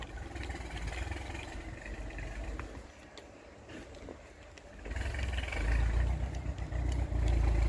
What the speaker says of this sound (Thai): พอดีก็จะมีเสียงรถดินรถไถนะนะ พอดีอยู่ตรงข้างสวนกัน